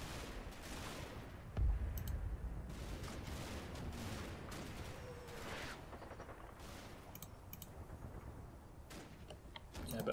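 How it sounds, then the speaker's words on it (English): Low-intensity firefight in the WWII wargame Combat Mission: Hell in the Hedgerows, with scattered distant rifle and machine-gun fire crackling steadily, one heavier thump near the start, under a steady battlefield ambience. "Kind of general quiet firefight, low intensity going on"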